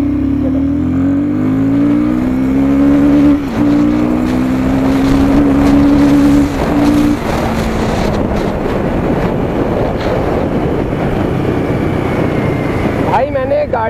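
A Royal Enfield Guerrilla 450 motorcycle accelerating in second gear revs with a rising, droning pitch for several seconds, then shifts into a rougher, noisier roar with wind buffeting the microphone.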